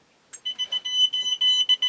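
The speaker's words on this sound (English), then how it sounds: "let's turn that alarm off" A Radiascan 701A Geiger counter alarm beeps rapidly. It starts with a short click, then a fast run of about a dozen high, tonal beeps follows, close and clear in a quiet room.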